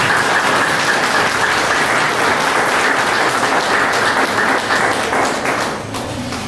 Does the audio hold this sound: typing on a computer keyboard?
no